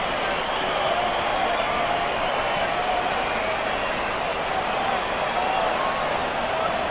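A stadium crowd in the AFL Evolution football video game, a dense, steady roar of many voices that holds at an even level throughout.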